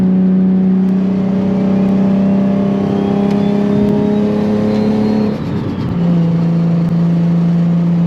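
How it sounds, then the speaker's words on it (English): Turbocharged Nissan 350Z cruising at night, a steady loud engine drone with a rising turbo whine, a brief dip near the end as the throttle lifts, then the hum resumes, with no talk. "I hope you guys can hear that turbo right now."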